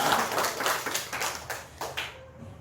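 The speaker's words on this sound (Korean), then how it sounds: "우리 큰 박수 하겠습니다." A church congregation gathered for Sunday worship gives a round of applause, a steady patter of many hands clapping at moderate distance, thinning out toward the end.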